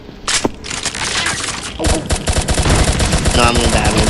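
Loud rapid-fire gunshots in the video game Pixel Gun 3D, dense bursts of automatic fire throughout with a louder crack near the start and a faint voice talking underneath.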